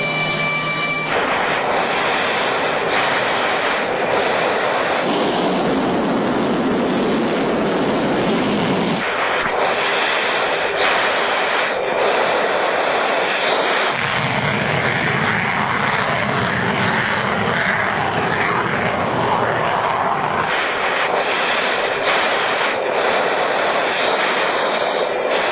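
A Su-37 jet fighter roars through an aerobatic display, a loud, continuous engine rumble whose tone and intensity shift several times as it maneuvers, with no voices present.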